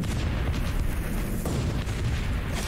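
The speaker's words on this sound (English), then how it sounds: "He's firing through that hole." Gunfire and explosions from the Guns Up! strategy war game fill the space with dense, continuous rumbling booms and crackling shots, heavy and steady throughout with no voices.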